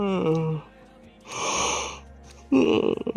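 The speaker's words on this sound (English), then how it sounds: "Stop your yawning." A person yawns with a drawn-out, breathy groan that slides downward, close to the mic, with voiced sounds around it.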